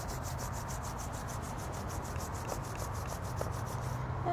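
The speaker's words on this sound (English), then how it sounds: "rubbing the palms together again" Palms rubbing together during a tai chi warm-up, a steady continuous dry friction swish with a regular back-and-forth rhythm, close and fairly loud, no talking.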